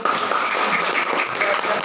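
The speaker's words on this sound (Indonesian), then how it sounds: "tepuk tangan untuk kelompok" A classroom of students applauds a student group, a dense, steady patter of many clapping hands close by, continuous and fairly loud throughout.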